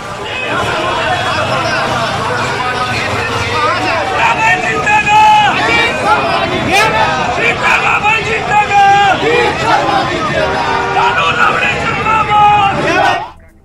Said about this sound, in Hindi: नेहा शर्मा को देखने के लिए सड़क के दोनों तरफ भीड़